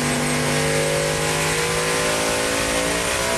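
A Coyote-swapped Foxbody engine is held at high revs during a dyno pull and gives a loud, sustained, steady roar with strong tonal harmonics and no talk.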